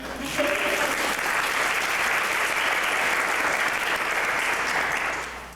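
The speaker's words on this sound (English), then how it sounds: "yes, you can applaud" Applause from the audience at a 1995 student music recital, a steady wash of clapping that holds at full strength for about five seconds and then fades out at the end.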